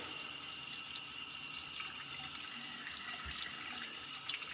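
Tap water runs steadily into a sink while a shaving razor is rinsed, a continuous close splashing hiss with small fluctuations and no talking.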